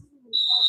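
Referee's whistle at a roller derby bout signalling the start of a jam: a single sharp, sustained shrill tone that begins partway through and holds to the end, fairly loud over low crowd murmur.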